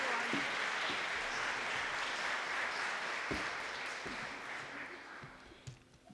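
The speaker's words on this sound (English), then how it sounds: "Let's give them another round of applause." Audience at a race and equity initiative meeting breaks into steady applause, a dense, loud wash of clapping that holds and then thins out toward the end with a few scattered claps.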